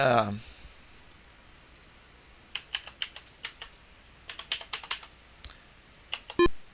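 Computer keyboard keys pressed one at a time while testing controls in the old game Ultima I, a string of sharp, separate clicks against a quiet background.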